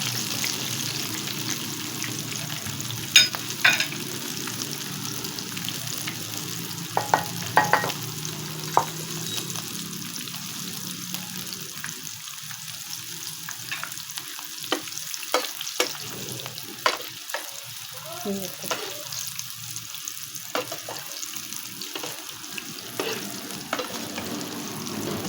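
Boiled chickpeas coated in gram flour deep fry in hot oil, a steady bubbling sizzle punctuated by scattered sharp clinks and scrapes of a stirring spoon, close and moderately loud.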